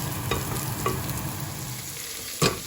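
Rice browning in a pan with oil for a Goan brown rice dish gives a steady close sizzle, broken by a few sharp scrapes of a spoon stirring.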